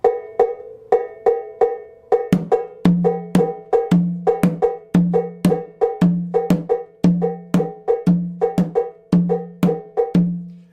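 A second Abakuá drum part plays a triplet partial against clave, with crisp, bright hits and deeper, fuller drum tones woven into a cycling, repeating pattern, close and alone for about eleven seconds.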